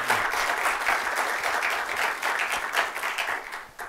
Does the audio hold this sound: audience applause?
yes